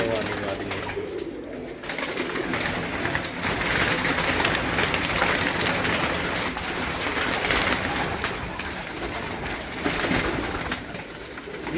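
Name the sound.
female pigeons cooing on a rooftop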